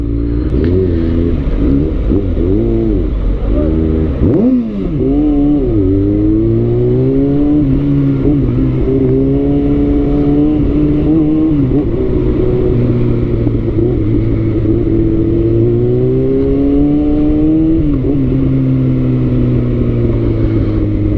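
Engine noise from street traffic on a hot day in the Philippines, a steady loud rumble with drifting engine tones that rise and fall as vehicles move and rev nearby, continuous throughout.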